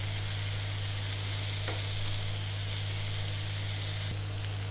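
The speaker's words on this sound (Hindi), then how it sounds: "इसे अच्छे से फ्राई होने देंगे। ये थोड़ा और पकेगा।" Okra masala fries steadily in a pan, a dense continuous sizzle with faint stirring scrapes, close and even throughout with a low steady hum beneath.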